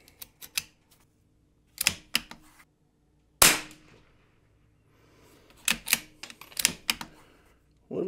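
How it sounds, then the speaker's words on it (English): Savage Mark II .22LR rifle firing shots from a 25-round string, heard as sharp cracks that come singly and in quick clusters with quiet gaps between, loud and close. "We're gonna go ahead and load these mags up and do our 25 shot string."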